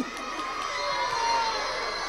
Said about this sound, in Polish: Wszyscy ci biją brawo.